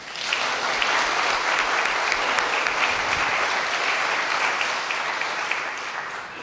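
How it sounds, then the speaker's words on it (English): A church congregation applauds a seminarian serving for the summer, a dense, steady round of clapping that fills the space evenly from start to finish with no voices over it. "Maybe we should just give Sam a round of applause."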